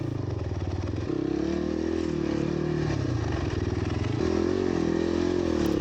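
A motorcycle engine hums and clatters steadily while riding, captured on an Insta360 One RS, with moderate level and small shifts in throttle and pitch throughout.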